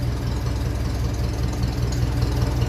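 A 1957 Ferguson 35 tractor with a TVO engine idles at about 600 rpm, giving a steady, loud, close low rumble with an even knocking pulse throughout.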